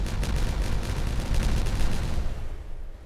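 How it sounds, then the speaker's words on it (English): A deep rumbling detonation from the city-building game Timberborn, a sustained booming blast that rolls on for a few seconds before tapering off, with no talk over it. "We'll slow down a bit and we will detonate."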